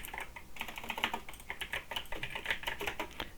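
Rapid typing on a computer keyboard, with dense, irregular clatters of keystrokes heard close up and steady throughout, with no talking.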